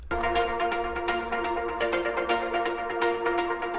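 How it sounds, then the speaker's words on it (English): A sustained, layered indie pop rock guitar top loop plays steadily at moderate level, with bright strummed tones ringing on and small rhythmic accents throughout. "I just have this guitar top loop playing,"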